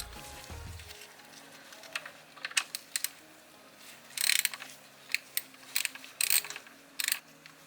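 A ratchet loosens 10 mm transmission pan bolts on a car, making quick bursts of close metallic clicking that come in short, irregular runs with brief pauses between them.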